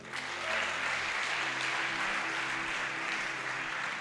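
Church congregation clapping together in steady, sustained applause that fills the room, loud and continuous throughout with no speech over it.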